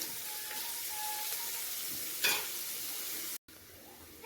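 Onion with a pinch of salt fries in a pan, giving a soft continuous sizzle with a brief stirring scrape midway, fairly quiet and close, followed by a short gap before the frying resumes.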